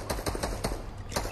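Rapid bursts of assault-rifle fire from an electricity-themed AR in a battle-royale shooter game, a few quick rattling volleys in close succession, fairly quiet overall.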